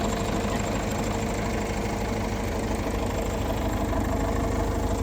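The engine of a small tractor backhoe idles with a steady, even rumble that stays loud and constant throughout, with nothing else heard over it.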